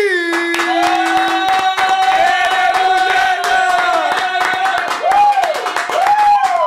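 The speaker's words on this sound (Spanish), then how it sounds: "Un fuerte aplauso a Maldi." An interview audience claps to welcome the guest Maldy: sharp, scattered claps run through the whole stretch beneath a loud, sustained voice.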